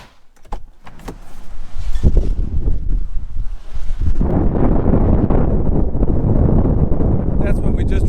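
Tropical storm Harold's wind buffeting a car driving through it in Texas: a few knocks, then a rising, sustained loud roar of wind and road noise filling the cabin, with a voice speaking briefly early on.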